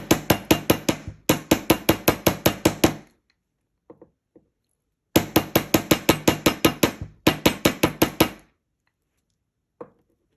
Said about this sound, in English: We're going to grab our chasing hammer. And we're going to hammer this side down.